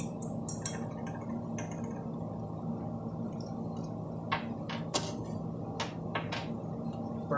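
Scraping dried Diels-Alder product crystals off filter paper on a glass watch glass in a chemistry lab, heard as a series of small, close clinks and scratchy taps, several sharp ones clustered near the end over a steady low room hum.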